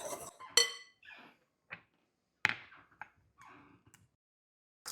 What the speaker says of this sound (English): Whisk all the dry ingredients together.